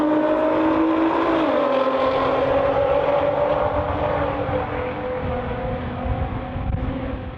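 Nissan GT-R R35 race car in the stock turbo class, FBO-equipped, at a GT-R festival in Australia: a loud, close engine whine rising and falling in pitch as it accelerates through gears, with a continuous rough roar underneath.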